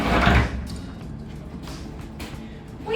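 An old closet door in an abandoned Victorian house in Natchez, Mississippi swings open with a close, heavy creak and rumble at first, then a quieter scraping and settling, and a final bump at the end.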